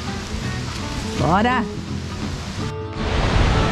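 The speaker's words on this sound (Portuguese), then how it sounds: "nós vamos mostrar essa cachoeira aqui" A waterfall in a canyon pours with a steady, hissing broadband rush that fills the scene throughout, while a person calls out briefly over the roar of the water.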